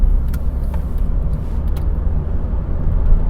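Steady, loud low engine and road rumble from inside a car pulling in fourth gear during a driving test, building speed evenly without any voices.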